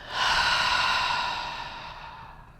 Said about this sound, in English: take a nice big breath in and out